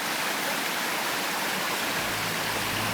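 Spring water from a native forest in central-southern Chile flows steadily, a dense continuous rushing and splashing like a small stream or cascade, close and loud with no voices.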